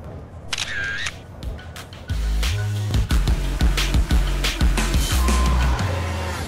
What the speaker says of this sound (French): je pense qu'on peut faire une petite photo finale